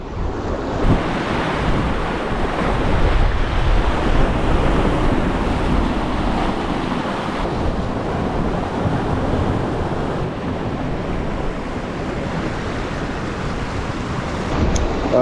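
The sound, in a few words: sea swell and wind while fishing from a boat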